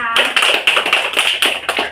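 A small class claps hands together in a few sharp, uneven bursts, close and fairly loud, with a voice briefly audible at the start.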